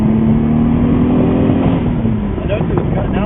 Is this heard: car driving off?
yes